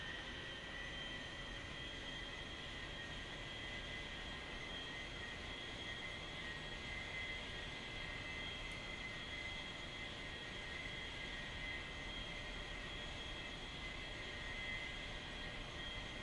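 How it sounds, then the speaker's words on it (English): Military jet taxiing in a flight simulator game, a steady droning engine hum and whine that holds level throughout, heard alone with no talk. "Alright, let's taxi to position."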